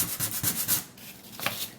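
Several quick back-and-forth rubbing strokes of 220-grit sandpaper on wood, a rhythmic scratchy hiss up close.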